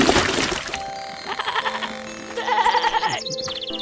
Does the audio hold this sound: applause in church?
no